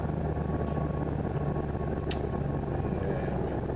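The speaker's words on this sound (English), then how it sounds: "And touchdown on runway 3." A small plane touches down on runway 3 at Kerrville, heard as a steady, loud cabin drone of engine and wind with one brief sharp bump near the middle and no talking.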